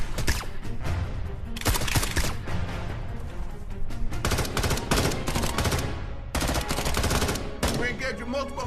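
Heavy automatic gunfire rattles in rapid bursts during an action-film firefight against hordes of infected. The loud, close volleys are broken by short pauses, with shouted voices in between.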